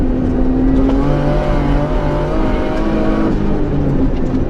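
Subaru R4 rally car engine revving through clutchless downshifts, a loud, close, buzzing drone with rising and falling pitch held steadily throughout.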